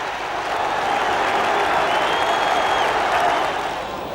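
A football stadium crowd roars and cheers after an Everton goal, a dense, loud, sustained wash of voices and applause that holds steady for the whole stretch.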